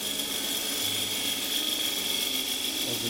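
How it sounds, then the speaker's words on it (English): A spindle gouge cuts into the base of a wooden three-sided box spinning on a wood lathe, making a steady whirring hiss with a faint high mechanical whine throughout. "I'm just going to use spindle gouge, just stick it in there and remove some of the"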